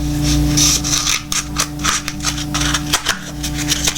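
Cardboard being cut for a homemade hydroponics setup, heard as close, uneven rasping and scraping strokes with short pauses between cuts and no talking.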